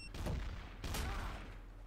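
Gunfire in Garry's Mod, two quick bursts of shots close together, sharp and loud against a low rumbling background, with no talk over them.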